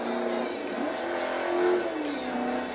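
AMC Javelin AMX V8 engine in Forza Motorsport 3, a steady loud droning growl with the revs swelling briefly midway and then settling, heard alone without talk.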